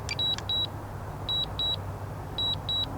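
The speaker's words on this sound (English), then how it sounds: "And we get the usual DJI beep." A DJI Mavic Mini drone controller sounds its warning beep in repeated pairs of short, bright electronic tones, three double-beep bursts at a steady pace over a low background hum.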